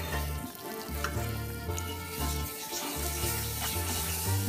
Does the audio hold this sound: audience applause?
no